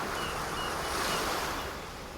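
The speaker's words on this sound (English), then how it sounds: "the sound of the ocean, both on the surface" Ocean waves wash at the surface in a steady, broad hiss of surf, continuous and full with no distinct breaks, alone without voices.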